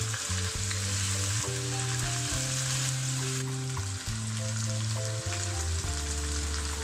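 Steady loud sizzling of chicken frying in a karahi, with a constant crackle and spatter, no voices.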